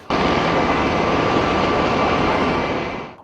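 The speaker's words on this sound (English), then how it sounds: "constant aerial surveillance by the Black Hawk helicopter and US Marine tiltrators was ongoing." Black Hawk helicopter passing overhead, a loud continuous roar of rotor and engine noise holding steady for about three seconds before tapering off at the end, with no voices.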